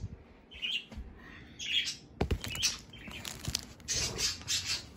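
Pet bird chirping and squawking indoors in short bursts, with faint rustling and brief wing flaps in between; no talking.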